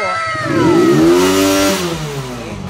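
A small engine revs up to high RPM after a spark plug repair, the pitch sweeping steadily upward, holding near the top, then easing back down to idle, loud and close with no talk.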